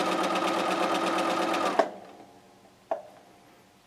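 A sewing machine runs steadily for nearly two seconds while stitching a quarter-inch seam on a raw-edge square quilt, then stops; a couple of sharp clicks follow in the quiet as the needle and presser foot are set.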